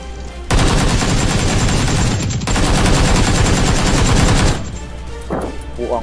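Rifle gunfire in the video game PUBG Lite comes as a dense, loud barrage of rapid shots that pauses briefly, then continues for several seconds and cuts off, leaving a quieter background.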